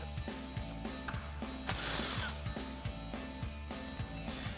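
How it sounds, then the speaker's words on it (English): An impact wrench with an 8mm socket and extension runs out a headlight mounting bolt on a 2021-2023 Ford F-150, giving rapid repeated hammering bursts with one louder stretch midway, close and with no talk. "we'll grab our 8mm socket and extension on our impact and run this out"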